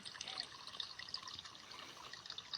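Thin trickle of water running steadily while water is being collected, a soft continuous dribble that stays close and fairly quiet, with no voices.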